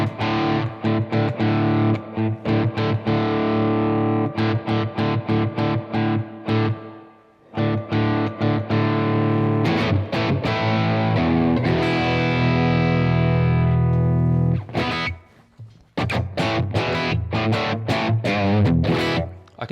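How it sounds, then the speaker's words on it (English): Electric guitar with reverb played through a Blackstar AMPED 1 100-watt power pedal, loud distorted chords and single-note riffs ringing out with tails, a couple of brief pauses between phrases. "So now I can tailor the reverb on the dial itself."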